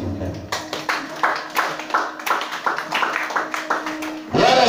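A church congregation at a Christian worship service claps for Jesus in a brisk, uneven patter of many hands, with talk audible over the clapping.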